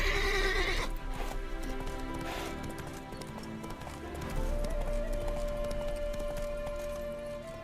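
Horse whinnying and galloping hooves in The Witcher 3 video game, a loud whinny followed by steady clip-clop of hooves over a game music bed throughout.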